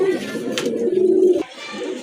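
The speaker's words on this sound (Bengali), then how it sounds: "আরেক জোড়া রাজগোল্লা কবুতর এটা আকাশি কালারের ভিতরে এটাও রানিং কবুতর" A pair of sky-blue Rajgolla racing pigeons coo nearby in a low, droning, throaty call that holds steady and then breaks off, followed by quieter cooing.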